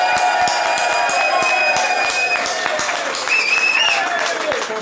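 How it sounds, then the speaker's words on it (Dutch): A crowd at an event in a Drenthe castle applauds for Elma, with fast, steady clapping under a loud layer of sustained music tones and some cheering, continuing evenly throughout. "jullie gaan nu eventjes een gigantisch uit het dak applaus geven voor Elma"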